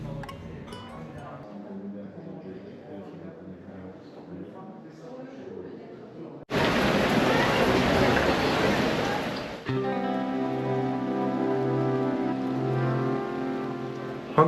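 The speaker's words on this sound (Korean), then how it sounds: "황금박물관을 다 보고 나왔는데 갑자기 소나기가 쏟아졌어요" A sudden rain shower pours down in Bogotá, Colombia, heard as a loud, dense hiss of rainfall that bursts in abruptly after a stretch of music and talk, then continues under music.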